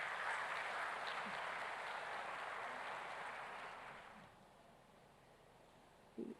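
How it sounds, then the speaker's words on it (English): A town hall audience gives a round of applause, a dense wash of clapping that holds steady, then thins and fades out near the end. "let's give them a fantastic round of applause"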